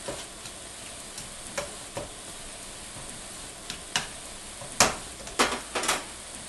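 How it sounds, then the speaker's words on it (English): Onions tossed into heated olive oil in a pan, with a faint steady sizzle broken by scattered clicks and scrapes of stirring, a few sharper clatters near the end. "Once the olive oil's heated up, we can go ahead and add our onions. Give them a good stir, make sure the oil covers them."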